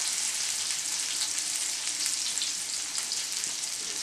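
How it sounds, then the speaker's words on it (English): Ginger and garlic paste fries with onions in a hot pan, giving a steady, bright, crackling sizzle with fine popping throughout, close and alone with no voices. "Once you hear the sizzling or the popping go down, you know all the water's out of the ginger and garlic paste"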